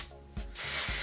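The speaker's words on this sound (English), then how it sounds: "So I'm just gonna spray that." A pump bottle of Kevin Murphy Scalp Spa hair and scalp product is sprayed close by, with a short hiss of spray rising and then holding briefly at a near, fairly loud level.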